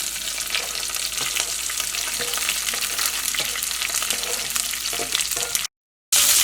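Onions for a vegetable curry sizzle loudly in a hot pan with oil and curry leaves. The frying is steady and close, broken by scraping and stirring, before a short break.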